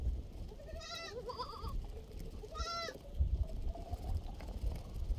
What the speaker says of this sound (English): Baby goat!